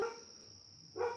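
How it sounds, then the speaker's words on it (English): A single short dog bark, faint and somewhat distant, with a quieter start and a clearer yelp near the end, alone in a quiet room at night. "Oh, my dog's barking."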